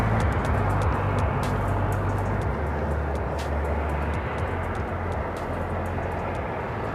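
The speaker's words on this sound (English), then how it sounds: "China Airlines at A350-900 now making that left-hand turn and it heading into the southwest corner of Tom Bradley" China Airlines Airbus A350-900 jet taxiing at Los Angeles International Airport, a steady broadband jet engine rumble with a low droning hum, continuous and fairly loud, with faint intermittent clicks over the roar.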